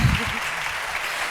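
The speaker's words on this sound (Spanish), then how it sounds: "Fuerte aplauso para ellos." Brief burst of audience applause in a hall, a dense wash of clapping that fades quickly after a louder start.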